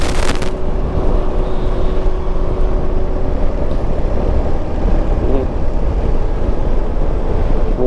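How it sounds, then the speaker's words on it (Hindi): Cool wind rushes past a moving motorcycle on a long highway ride, a steady broadband roar of wind buffeting the microphone throughout, loud and continuous with no talk. "हवा ठंडी ठंडी चल रही है"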